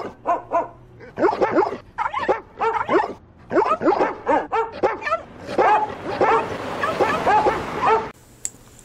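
Several dogs bark and yip in rapid, uneven bursts close by, some higher-pitched and whiny, continuing almost without pause.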